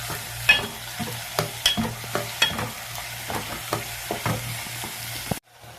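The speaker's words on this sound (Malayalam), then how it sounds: "ഈ ഉള്ളി ഗോൾഡൻ കളറാവണ വരെ നമുക്ക് മാറ്റിയെടുക്കാം." Onions and green chillies sizzle in a hot pan while a spoon stirs them, with steady frying hiss punctuated by close, regular scraping strokes, ending abruptly.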